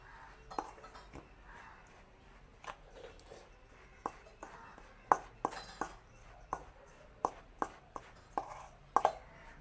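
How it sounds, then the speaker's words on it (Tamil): A spoon mixes hot ghee into flour dough for ribbon pakoda in a bowl, making close, irregular sharp taps, clinks and scrapes against the bowl with no talking. "நாங்கள் இப்படி ஒரு கரண்டியால் இந்த நெய்யெல்லாம் இந்த மாவோட சேர்கிற மாதிரி வடிவாக கலந்து விடுவோம்."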